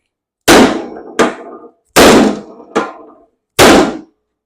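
Five sharp metallic hammer strikes knock a lawn mower blade pulley into place while replacing worn mower blades, each loud clang ringing out briefly in an uneven rhythm, close up with no talking.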